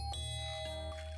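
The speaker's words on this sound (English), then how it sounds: "so I was excited when I pushed the doorbell" A house doorbell rings with a brief, clear electronic ding and a sustained tone over a low background hum, heard alone.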